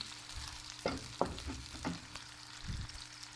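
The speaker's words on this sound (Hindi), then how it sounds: "इसे हल्की आंच पर प्याज को फ्राई कर लें।" Onions sizzle softly in a pan over low heat, and a few scraping stirs stand out against the quiet, steady frying hiss, with no voices.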